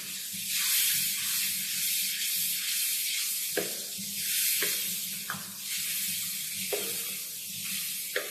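Masala for Punjabi-style fried urad daal mash roasts in a pan with a continuous soft sizzle, broken by several sharp scraping strokes of a spoon stirring it, with no talking.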